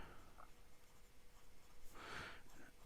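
A Visconti Leonardo da Vinci Machina fountain pen with a medium 18 karat gold nib scratches across paper, a soft, close, faint scratching stroke that grows briefly louder near the end.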